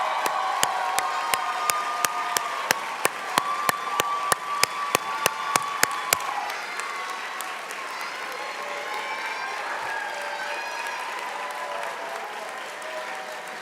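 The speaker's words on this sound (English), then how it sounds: "let's give a round of applause for the class of 2022." Applause rings out for the graduating pharmacy class of 2022 at a commencement ceremony: a sustained crowd of clapping with sharp individual claps standing out in the first half, then thinning into a softer, steady patter of hands.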